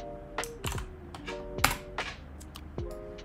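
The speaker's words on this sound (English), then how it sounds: "Hello, coffee keyboard." Keys clack on a coffee-themed mechanical keyboard in a short run of distinct, close, crisp keystrokes with uneven gaps between presses, and no talking.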